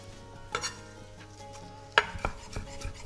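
Cucumber ribbons and broad beans are stirred through olive oil in a pan, producing a few soft scrapes and knocks of a utensil against the pan over a low, steady hum, close and without talking.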